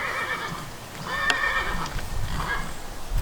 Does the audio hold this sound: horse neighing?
yes